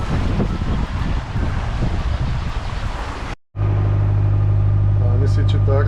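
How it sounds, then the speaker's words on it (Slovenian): Steady wind rushes over open sea aboard a sailboat crossing the Atlantic near Cape Verde, blowing at about 15 knots with waves around the hull; a loud broadband roar cuts out briefly, then returns with a low steady hum beneath. "Veter je malo ponehal, še zmeraj piha 15."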